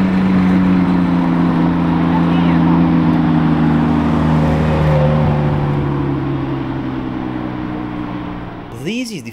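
A yellow Ferrari Daytona SP3 sports car engine runs with a loud, steady drone that slowly fades as the car moves away, ending in a brief rising whine.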